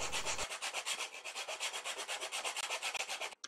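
A hand file rasps across the walls of a small metal part for a homemade solenoid engine, a quick series of about thirty close, rhythmic scraping strokes, steady and even, ending in a brief clatter.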